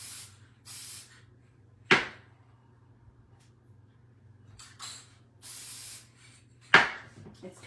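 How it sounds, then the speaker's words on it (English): Several short hissing bursts of a Mod Podge aerosol sealant spray can, separated by pauses, with two sharp clicks and a low steady hum underneath. "We're gonna put the Mod Podge spray on"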